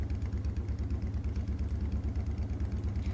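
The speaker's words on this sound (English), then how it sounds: "I hear the low hum of the engine die down." Low, rumbling machine engine hum from the video game Burrows, a steady pulsing drone that throbs evenly throughout, with no voices over it.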